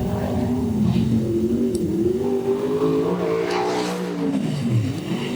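A sprint car on a time trial lap at a racing meeting roars past with a strong revving engine, its pitch rising and then dropping as it sweeps by close and loud.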